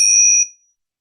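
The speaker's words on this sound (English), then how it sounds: "I'm just going to ring my bells because I think that bells are good for clearing bad energy" Small metal bells rung to clear energy, a single bright ring with clear high tones that fade away within half a second, leaving silence.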